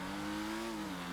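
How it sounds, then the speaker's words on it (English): Rough, steady engine note from a car in the GTA video game, a brief sustained rev that rises slightly then eases, fairly quiet and without speech. "I don't think I've heard an engine that sounds like this in GTA before"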